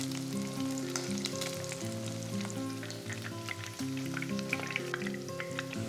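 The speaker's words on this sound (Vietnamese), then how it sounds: "Mình cắt nhỏ thành từng miếng vừa ăn và đem đi chiên giòn đều các mặt." Small cut pieces of pre-fried tofu sizzle and crackle in hot oil, a busy steady frying hiss with light popping, close and without talk.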